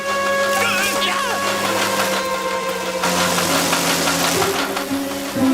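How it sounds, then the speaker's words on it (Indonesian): Cartoon lawn mower engine running loud and steady, a buzzing mechanical drone that continues throughout with a brief shift partway, while voices are heard over it. "Di mana mesin pemotong rumputku berada?"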